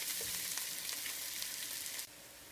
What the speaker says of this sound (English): We're just going to stir that all together.